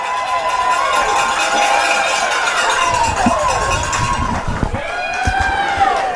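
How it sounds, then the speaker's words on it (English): Ontario's travelling fans cheer a touchdown at a women's U18 national football game against Alberta, a steady crowd roar with whistles and a cowbell-like clatter throughout, swelling near the end while a voice talks over it. "the Ontario traveling crowd liking that one"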